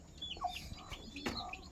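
Chickens, including white hens, cluck in soft, irregular bursts close by on a farm, with faint background noise.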